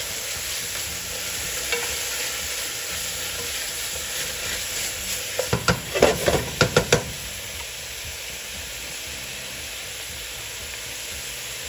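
Hydrated mushrooms sizzle softly in a pot with a constant hiss, joined midway by a quick cluster of spoon knocks and scrapes as they are stirred.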